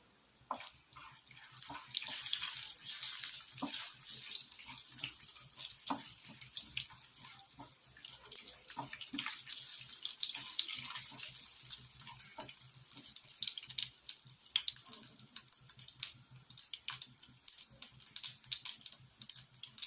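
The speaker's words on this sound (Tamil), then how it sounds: "கடுகு, கடலைப்பருப்பு, சீரகம் எல்லாமே ஆட் பண்ணிடலாம். பொரிஞ்சு வரட்டும்" Mustard seeds, chana dal and cumin sizzling and spluttering in hot oil, a continuous hiss of frying broken by many small crackling pops, fairly close and loud, with no talking.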